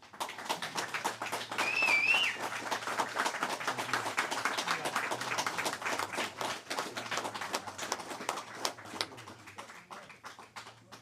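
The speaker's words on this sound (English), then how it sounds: "Ladies and gentlemen, can we get a big round of applause, please?" Audience at a Purple Hearts ceremony breaks into sustained, dense applause that swells near the start and carries on steadily for about eleven seconds, with a brief whistle-like cheer rising above the clapping early on.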